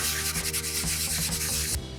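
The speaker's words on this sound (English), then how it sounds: "take the piece of sandpaper, in this case here, the 80 grit paper, and simply give it a light sanding" Coarse 80 grit sandpaper rubbing by hand over dried drywall joint compound on a sheetrock repair, a close, steady scratchy rasp of repeated strokes that stops abruptly near the end.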